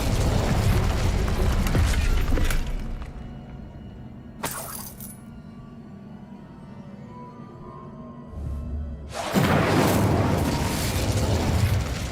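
An Incendio fire spell blast from Hogwarts Legacy roars loudly, quiets to a low hum with a brief crackle, then flares up again in a second heavy burst.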